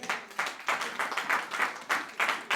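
Church congregation clapping during a sermon, a brief burst of rhythmic, fairly even hand claps at moderate loudness, with no speech over it.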